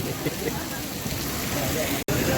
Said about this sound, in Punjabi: ਪੂਰਾ ਮੀਂਹ ਪੈ ਰਿਹਾ ਵਾ